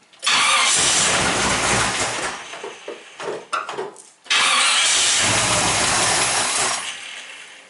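A 1949 Ford Custom engine started with the key, cranking and catching into a loud, close roar, then sputtering and rough briefly before revving up strongly again.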